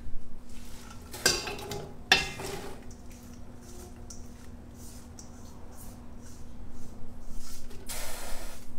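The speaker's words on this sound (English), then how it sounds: "Let's get our leeks and green onions in here." Chopped leeks and green onions dropped into a soup pot, with a couple of sharp metallic clanks early, then soft rustling and gentle sizzle that builds toward the end.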